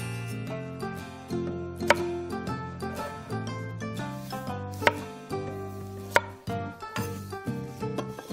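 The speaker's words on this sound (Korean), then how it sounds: "새송이를 이렇게 또 잘라서 넣어주셔도 되고" A knife cuts king oyster mushrooms on a cutting board while doenjang jjigae is prepared, giving a series of crisp, irregular chopping knocks. Fairly quiet and close, with small rustles between strokes and no talk.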